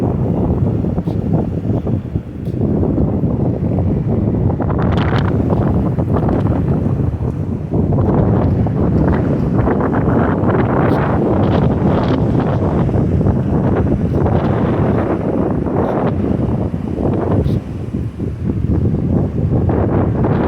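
Strong wind roars across the microphone while heavy ocean waves crash and surge continuously, loud and close, with no voices.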